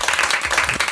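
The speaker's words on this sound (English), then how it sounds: "Hold for applause" A short burst of applause at a dating-show style comedy segment, dense clapping from a crowd heard for about a second.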